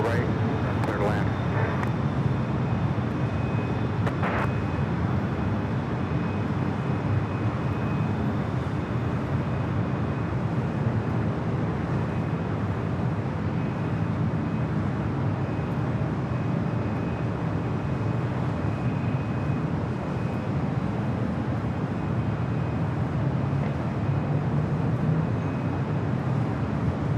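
An Airbus A380 landing on runway 24 right at Los Angeles International Airport, heard as a steady, distant broadband jet roar with wind that holds evenly throughout.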